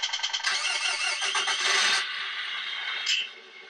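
The sound unit in a Tamiya Wrecker RC truck plays an engine start: a rapid cranking rattle, then a bright, harsh idling roar that drops back a little, with a short sharp burst near the end and no talk.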